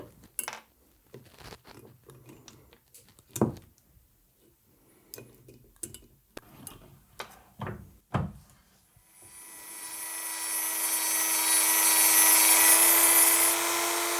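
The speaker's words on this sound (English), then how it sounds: "take a Dremel and cut into the main part of the bearing so that it cracks" A Dremel rotary tool cuts into the steering head bearing of a BMW R80 motorcycle. Scattered clicks and taps come first, then a loud, steady high-pitched grinding whine builds and holds through the final few seconds.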